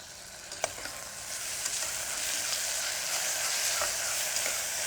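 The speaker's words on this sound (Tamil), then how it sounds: "இஞ்சி பூண்டு விழுதை சேர்த்துடலாம்." Chopped onions with ginger garlic paste sizzle and fry in a pan, a steady close crackle with a few sharper pops and stirring scrapes, no talking.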